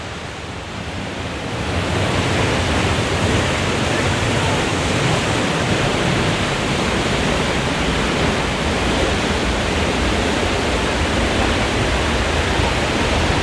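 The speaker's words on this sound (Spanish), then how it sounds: "¿Viste, Brica, qué lindo el salto de agua?" The Salto de la Princesa waterfall in Chile gives a loud, continuous roar of falling water that is close and steady throughout, swelling slightly after the first two seconds.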